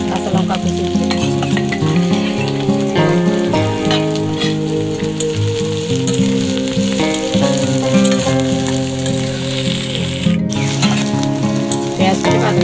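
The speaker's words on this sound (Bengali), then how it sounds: "এতে এবার আমি পেঁয়াজ কুচি দিয়ে দিচ্ছি। কাঁচা লঙ্কা কুচি দিয়ে দিচ্ছি।" Chopped onion and green chilli frying in oil for a spicy mushroom dish: a loud, dense, continuous sizzle with occasional stir scrapes, over steady tonal background music.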